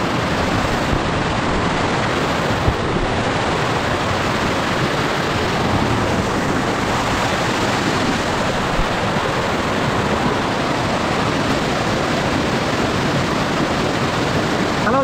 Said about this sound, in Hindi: कैसे पानी आ रहा है देखिए